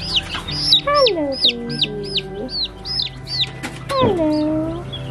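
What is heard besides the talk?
baby chicks chirping under a heat lamp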